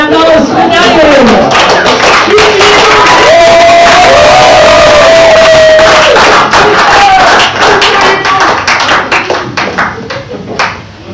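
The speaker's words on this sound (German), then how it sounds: "Also ein Applaus für Daniel." A crowd applauds and cheers loudly for Daniel Wagner, with whoops and hands clapping in a dense, near wash under voices and some whistling, tapering off toward the end.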